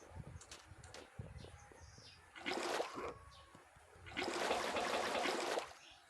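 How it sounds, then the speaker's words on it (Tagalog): Water is being fetched into a bucket outdoors, heard as faint trickling and splashing in two gushing bursts with scattered light clicks and knocks between them, and birds faintly in the background. "kukuha pala ako ng tubig"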